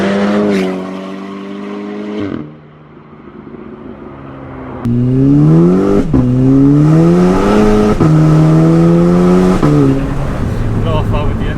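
Tuned 435bhp VW Golf GTI accelerating hard, a loud, close engine note climbing through several gear changes, with a short pause between shifts and a blow-off valve hiss heard between them.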